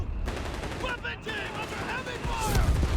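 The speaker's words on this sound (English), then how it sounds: "Good thing going for the 30 cal. Mortars joining in here." Machine gun bursts and mortar fire in Company of Heroes 3, including a .30 cal, crackle under steady commentary, with heavier thumps building toward the end.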